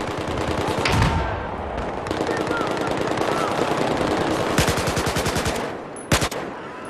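Rapid automatic gunfire in the video game Battlefield 4, loud and close, with sustained bursts and a few sharp single shots near the end, while someone talks over it.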